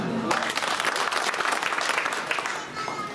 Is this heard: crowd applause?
yes